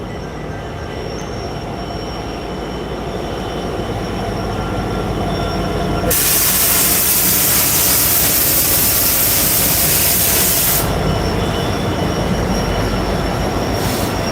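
A CSX freight train hauled by SD70 locomotives rolls past close by, heard from a clifftop above the line. There is a loud steady rumble of wheels and cars, a bright hissing squeal of the wheels through the middle, and no talking.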